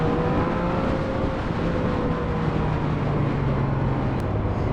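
Yamaha MT naked motorcycle engine running steadily while being ridden, a continuous smooth drone with faint rising tonal whine, close and loud throughout with wind noise.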